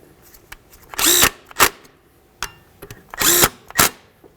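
A power drill snugs the brake caliper slider pins on a 2012-2020 Nissan Pathfinder during a rear brake job, with two pairs of short whirring bursts separated by brief pauses, close and clear.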